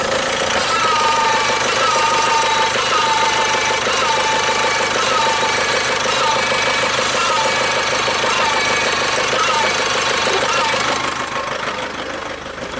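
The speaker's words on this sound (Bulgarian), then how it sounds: "И слушайте сега как ще работи колата." A 2011 Chevrolet Captiva engine idles with a burned-out fuse removed, a loud steady mechanical drone with a rough, knocking texture, close up and continuous, easing slightly near the end.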